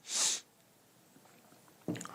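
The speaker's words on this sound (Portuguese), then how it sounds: "não tô fungando porque eu uso droga não, tá? É porque eu tô resfriado" A person with a cold gives one sharp, close sniff at the start. Near-quiet follows, then a faint shuffling noise at the end.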